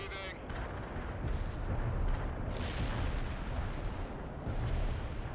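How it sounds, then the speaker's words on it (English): Heavy artillery barrage in the video game World in Conflict, a dense continuous rumble of booms and gunfire that stays loud and sustained throughout, with no voices over it. "Heavy artillery barrage inbound."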